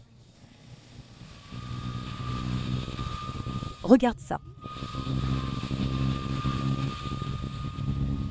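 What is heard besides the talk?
Bajaj Dominar NS400Z motorcycle engine accelerating on road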